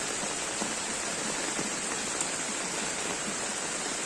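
Rain falls steadily on a flooded village with water-covered houses, a dense, even hiss of drops on surfaces and water, continuous and fairly loud, with no voices.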